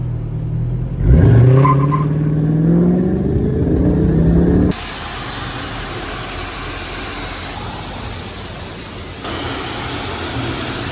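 A pressure spray washes down a Honda Grom motorcycle after it sat underwater, giving a loud, steady hissing jet that cuts on and off, with an engine rev and whine before the spray starts.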